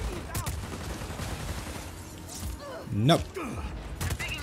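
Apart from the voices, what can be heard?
gunfire in video game Just Cause 4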